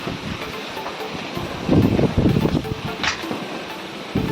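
Strong wind in a village during a storm, gusting and roaring in surges that swell and fade, with rustling and buffeting close to the microphone.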